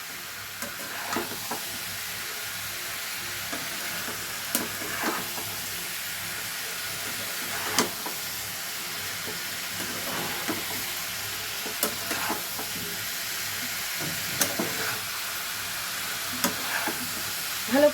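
Food tossed and stirred in a frying pan for a breakfast dish, with a soft continuous sizzle and scattered light scrapes and clinks of the spatula at irregular intervals, fairly quiet.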